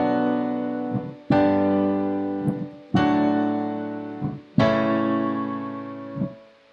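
Piano playing chords from a song in tempo, with four sustained chords struck at an even pace, each ringing and fading before the next, clear and close, with no talking.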